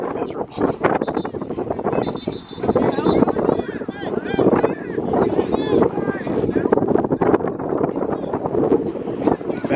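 Strong wind buffets the microphone with a steady, rough roar at a semi-pro football game, while a voice talks through it and boat or water noise churns underneath.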